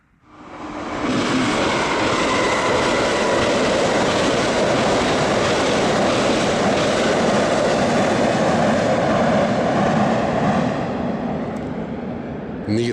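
A train roars past on the Amtrak Northeast Corridor at Perryville, Maryland, near the Susquehanna River: a loud, steady rush of wheels and rumble that swells in quickly and holds for the full length, fading slightly at the end.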